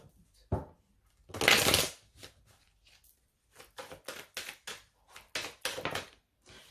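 A deck of oracle des miroirs cards is shuffled up close: a thump, a long papery riffle, then a quick series of snapping slides and taps in bursts, with no voice.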